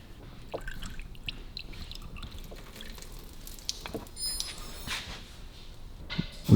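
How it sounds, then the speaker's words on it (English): Coolant water leaking from around the water pump of a Buick, heard as faint irregular dripping and splashing with scattered clanks and squeaks, fairly quiet and without speech. "So all the water's just pouring through everywhere."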